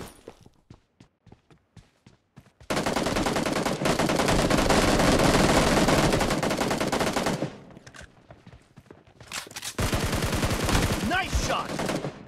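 Gunfire in the BGMI battle royale game: a few sparse single shots, then a long sustained automatic burst, a pause with scattered shots, and another loud rapid burst near the end.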